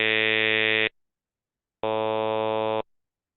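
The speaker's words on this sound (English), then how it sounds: "If we play it back, we get all 5 of those vowels." Synthesized vowel sounds played back in a lecture demonstration, two steady buzzy electronic tones of about one second each separated by silence, clean and loud.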